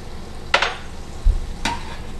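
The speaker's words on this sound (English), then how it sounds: "I want to cook that brandy in this pan for about a minute" Brandy cooks in a pan, giving a soft steady sizzle underneath with two sharp utensil clicks against the pan and a low dull thump between them, all close and fairly quiet.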